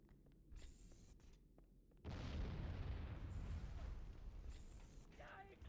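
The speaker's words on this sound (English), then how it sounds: "On Lasso, that explosion can and will hit you." In the Halo video game, a sudden loud boom bursts in after quiet, faint game ambience, then rumbles and decays over several seconds.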